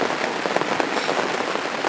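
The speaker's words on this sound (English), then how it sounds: "I've tried to set some stuff up, but it's absolutely pouring down." Heavy rain pours down on a lakeside fishing setup, a dense, continuous hiss of drops drumming on surfaces, loud and close, with no voices.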